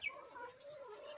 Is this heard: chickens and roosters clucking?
yes